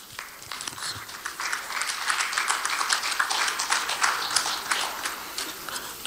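An audience claps for a healthcare agency director at a COVID-19 vaccination inauguration event. The applause is dense and steady, building slightly and sustained for several seconds.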